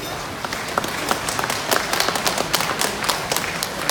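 Crowd applause at an outdoor political rally in Taiwan, thanking a sculptor: dense, steady clapping from many hands, loud and sustained throughout with sharp individual claps standing out, no voices over it.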